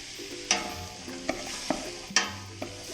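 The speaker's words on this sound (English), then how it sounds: "Give it a quick stir so that we coat all the onion in the fat." Chopped onion stirred in hot butter in a soup pot: a soft sizzle under a few distinct scraping clinks of a utensil against the pan, close and unhurried.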